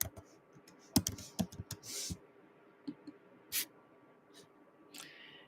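Keys on a computer keyboard are tapped in quick irregular bursts close by, with small clicks and a few brief rustling swishes between pauses.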